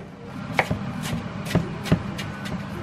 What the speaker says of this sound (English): Take a cutting board, cut up the apple.